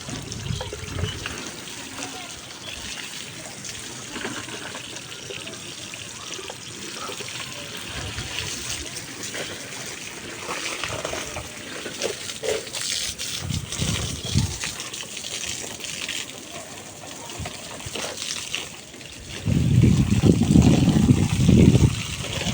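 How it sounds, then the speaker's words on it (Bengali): Water gushes and splashes onto potted plants during a hot-summer watering, a steady pour that swells into a heavier, louder gush near the end, with a voice speaking faintly in the background. "এই গাছগুলোতে দিলে আমার আজকে পানি দেওয়া শেষ হয়ে যাবে"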